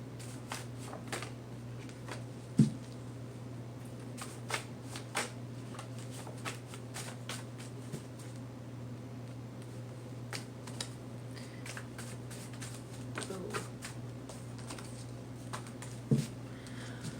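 A deck of fairy oracle cards being shuffled, producing soft, scattered card taps and flicks over a steady low hum, close and quiet, with no one speaking.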